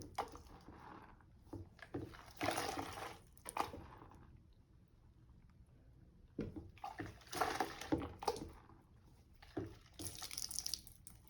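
A lace hair closure is slowly dipped into warm shampoo water, giving soft, quiet sloshing and splashing in several bursts with gentle dripping in between.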